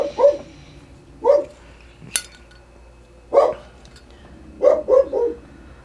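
A dog barks at close range in short separate woofs, one or two at a time with pauses between and a quick double at the end, plus a single sharp clink midway.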